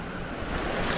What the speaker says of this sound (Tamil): அலைகள் எல்லாம் எவ்வளோ பெரிய அலைகள்.